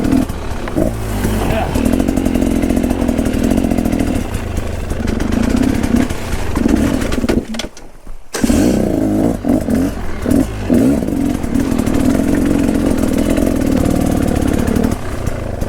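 A motorcycle engine runs loud and close, holding a steady rumbling drone with a brief drop-off partway through before roaring back.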